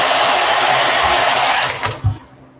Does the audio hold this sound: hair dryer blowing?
yes